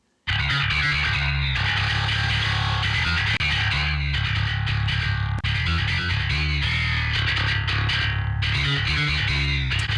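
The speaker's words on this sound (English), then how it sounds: "come in and you've got your high distortion" A high-gain electric guitar through the Neural DSP Fortin Cali Suite, tuned to drop C, plays dense, heavily distorted palm-muted riffs. The riffs are loud and continuous, with a few quick breaks, and the guitar plays alone.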